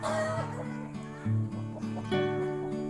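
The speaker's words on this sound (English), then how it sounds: "The chooks and the ducks over there just waiting to be fed." Chickens and ducks cluck and murmur close by in a paddock on a New Zealand farm, a lively, overlapping chorus of low calls.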